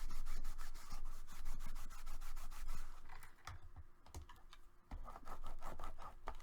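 Fingernails burnish the edges of folded cardstock on a handmade Christmas memory box, making close, steady rubbing and scraping strokes in quick repeated passes with brief pauses and no talking.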